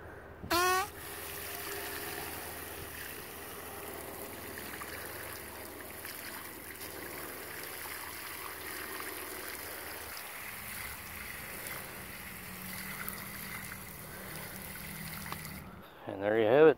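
Water sprays onto freshly painted rat rod golf cart wheels in a steady, close hiss for most of the clip, then cuts off before a brief clatter at the end.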